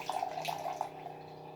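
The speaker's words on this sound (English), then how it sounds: "it will only pour out 2 cups of water at a time" Countertop water dispenser with a push button and automatic shut-off pouring water into a glass, a quiet close trickle and splash with a faint hum beneath, tapering off toward the end.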